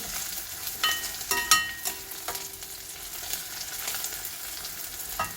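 Sliced onions frying in a pan for mutton marag, a low steady sizzle broken by irregular utensil clinks and stirring scrapes, close by, no speech.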